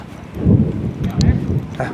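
Gusty storm noise with rumbling low wind and a steady rain-like wash, swelling in bursts, with a voice faintly mixed in.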